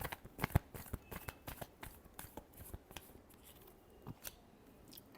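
Tarot cards being shuffled by hand, a run of quick papery riffles and soft slaps repeating at an uneven pace, close and fairly quiet with no talk.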